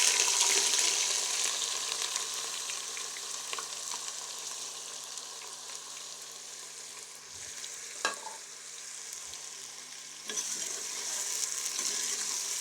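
Sliced onions fry in a pan for red kidney bean daal, producing a steady loud sizzle with occasional stirring scrapes and faint knocks throughout.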